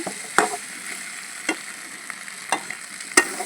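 Country chicken pieces fry down in a small amount of oil with a soft, low sizzle, interrupted by four distinct clanks of a spatula stirring against the pot.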